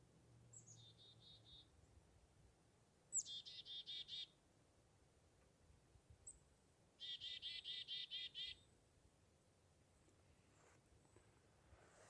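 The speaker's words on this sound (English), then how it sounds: "can you hear those birds?" Faint birds chirp in short rapid bursts, a few quick trilling series separated by quiet pauses, over a soft outdoor background.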